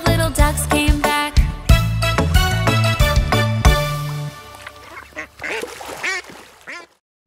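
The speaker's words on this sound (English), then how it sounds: "Daddy duck said quack, quack, quack, quack" Cartoon ducks in a children's nursery rhyme song quack several times over bright, upbeat music, the squawky calls clustered toward the end of the tune.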